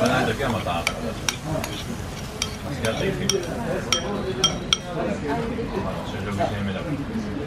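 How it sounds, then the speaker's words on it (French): Okonomiyaki batter being mixed in a bowl in Japan, with a steady scraping swish and repeated light clinks of utensil against the container, while voices talk underneath. "D'abord, on mélange."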